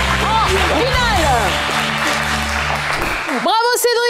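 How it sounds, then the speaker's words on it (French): A studio audience on a French game show claps in a steady wash of applause, with a host's excited voice talking loudly over it throughout. "Et ça s'applaudit encore plus fort, les amis!"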